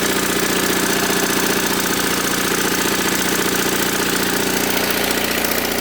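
A generator engine runs steadily under a load bank with a constant, loud, close drone and vibration that does not change, and no one speaks.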